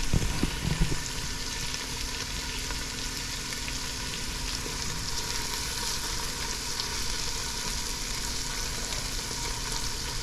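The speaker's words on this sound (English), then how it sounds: "let everything get sauteed and get a little flavor in there" Carrots and other vegetables sauteing in a pan for a minute-rice dish, a steady close sizzle and crackle that holds at an even level throughout, with no talk.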